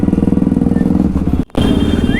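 A motorcycle threads through heavy Sunday traffic near Rishikesh, its engine thumping loud and close in a steady rapid pulse, with a brief dropout before it resumes.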